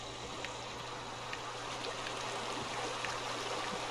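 Steady flowing stream of water in the video game The Outer Worlds, a continuous soft rushing trickle with faint splashy detail, even and unbroken throughout with no talk.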